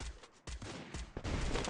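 Gunfire bursts in the mobile battle-royale game Free Fire Max, several sharp broadband shots in quick succession with a short gap near the start, loud and close.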